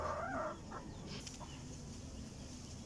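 A backyard chicken recovering from coryza, an eye infection, gives a brief clucking call at the start, then only quiet background noise remains.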